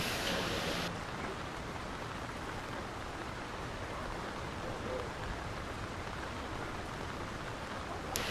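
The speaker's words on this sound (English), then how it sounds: "We should probably get out of the rain." Steady rain falls in the Lord of the Rings: War in the North video game, a dense, even hiss of downpour that holds throughout, with a brief brighter burst at the very start.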